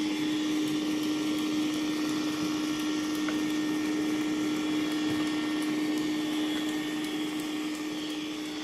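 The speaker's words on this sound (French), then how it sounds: "Le robot est à nouveau à l'œuvre dans le couloir" A Dreame X50 Ultra robot vacuum cleaning a hallway, a loud steady motor whine with a constant hum and brushing noise, continuous throughout and close by, with no talking.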